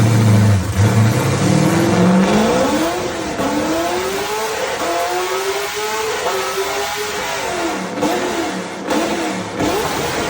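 Engine of a dark BMW E46 drift car with a 4.27-litre V8, 575 horsepower to the rear wheels and a dog-box gearbox, revving hard with rising and falling pitch sweeps, loud and close throughout.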